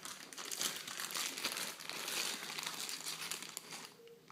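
Plastic and paper packaging from an Xbox One console box being cut open, a continuous close crinkling and crackling that fades near the end.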